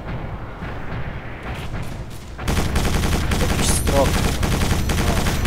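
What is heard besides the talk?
gunfire from enemies in the video game Quake 4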